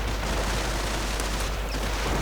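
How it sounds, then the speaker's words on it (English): A barrage of anti-tank gunfire in a World War II strategy game as a headquarters is destroyed, a dense, loud, continuous roar of overlapping blasts and booms with no break. "the Reich headquarters going down under a barrage of anti-tank fire"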